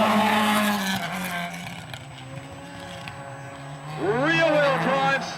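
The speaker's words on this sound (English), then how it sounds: "Real wheel drive, smoking those tyres, and he heads into the stage." A rear-wheel-drive B&T Escort rally car at a classic rally stadium stage revs and spins its tyres, engine pitch rising and falling, with a second surge of rapid revving near the end under a commentator's talk.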